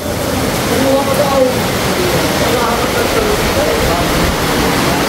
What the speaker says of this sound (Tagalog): Lakas ang patak.